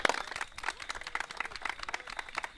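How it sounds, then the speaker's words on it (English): A small audience at an Eco Lodge talk gives a round of applause, clearly separate hand claps in an uneven rhythm at moderate loudness, with no voices over them. "a big round of applause"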